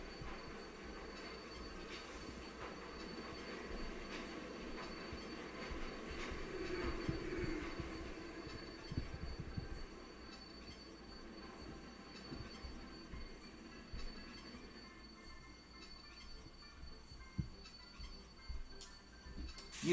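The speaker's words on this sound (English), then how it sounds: "I also want to show you the video about the XPT train, Australia's equivalent of the HSTs." An XPT passenger train, Australia's equivalent of the British HST, rumbles along the rails with steady wheel noise, squeals and clicking over joints, loudest mid-passage and then easing off, with no voices.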